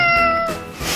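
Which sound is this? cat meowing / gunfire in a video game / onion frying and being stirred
cat meowing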